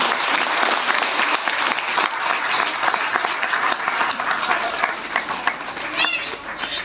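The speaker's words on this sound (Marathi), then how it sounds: "त्यांच्यासाठीही टाळ्या वाजवाव्यात" Audience applause at a dhamma camp gathering, a dense, sustained clatter of many hands clapping across the room, loud throughout and tapering slightly toward the end.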